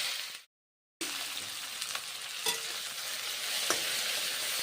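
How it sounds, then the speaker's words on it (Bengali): Tomato, drumstick, eggplant and green chili frying in hot mustard oil for a vegetarian drumstick curry, a steady close hiss broken by a brief silence near the start and a few sharper pops and stirring scrapes. "টমেটো, সজনে ডাঁটা, বেগুন, কাঁচা লঙ্কা ভেজে নিচ্ছি।"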